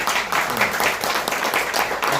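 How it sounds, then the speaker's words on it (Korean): An audience at a seminar claps together, a dense, even patter of many hands at moderate loudness that holds steady without a break. "박수 한번."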